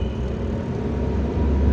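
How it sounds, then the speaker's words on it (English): A bus rumbles close behind a car on the roads of Algiers, a steady low engine drone with broadband traffic roar that holds at a loud, even level throughout. "The bus is now behind us and it's making a hell of"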